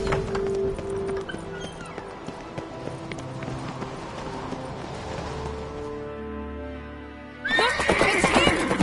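A horse in The Witcher video game whinnies loudly amid clip-clopping hooves and background game sounds, with a second sharp neigh bursting in near the end after a quieter stretch.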